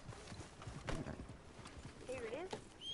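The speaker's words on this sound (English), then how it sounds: "Ah, there's my horse." Horse in a video game, with hooves clip-clopping faintly and a brief whinny near the end, quiet and somewhat distant under a low ambient background.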